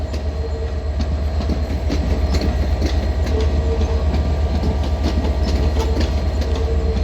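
A passenger train, unit 465018, departs London Victoria station with a steady low rumble and rhythmic clickety-clack of wheels over rail joints, loud and continuous throughout with no talk.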